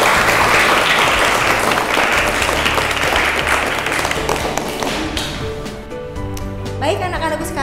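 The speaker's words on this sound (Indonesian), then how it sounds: "Tepuk tangan anak-anak" Dense applause from a classroom of schoolchildren, loud and continuous at first, then thinning out into scattered claps with some voices underneath.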